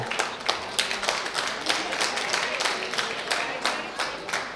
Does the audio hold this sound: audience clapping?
yes